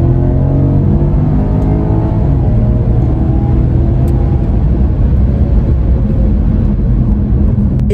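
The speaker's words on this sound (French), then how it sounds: "j'espère qu'on va bien entendre à la caméra le son du moteur" A Porsche Panamera 4S with PDK gearbox accelerates hard, its engine note loud and steady throughout with rising harmonic sweeps as revs climb and gears change, no voices over it.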